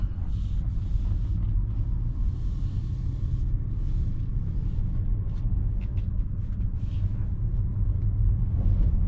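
Steady low road rumble inside a 2016 Mercedes Maybach S600 driving over a rough unpaved road, muffled and continuous, with faint bumps and wind noise throughout.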